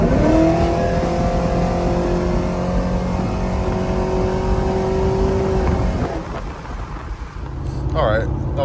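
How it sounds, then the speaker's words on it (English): A cammed Chevrolet Silverado/GMC Sierra pickup with a six-speed manual swap accelerates hard onto a freeway, its engine note rising steadily through a gear before easing off, loud and close, with brief talk near the end. "let's see if I can get a nice little quick pull in"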